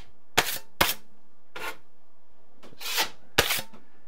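A 6-inch drywall knife sweeps joint compound across a wall in several separate rasping strokes, close and distinct with quiet pauses between them.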